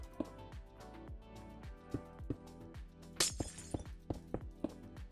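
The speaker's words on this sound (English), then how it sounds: "I'm just going to add another six glass panes." Glass panes placed block by block in Minecraft while building a gas station give a steady run of short, sharp clinking and tapping hits, close and fairly loud, with no one talking.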